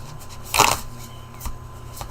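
A deck of tarot cards is shuffled close by in one quick riffle burst, then a softer second flutter of cards, with no talking.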